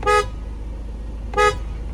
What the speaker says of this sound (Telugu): అది తీసేసి మళ్ళీ క్రేటా హారన్లు